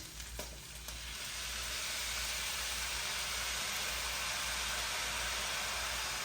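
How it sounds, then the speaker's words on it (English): Tamari sauce hits hot stir fry vegetables and rice in a pan, setting off a steady, loud broadband sizzle that follows a couple of brief clicks at the start and holds without a break. "And I'm going to add the tamari, like I mentioned."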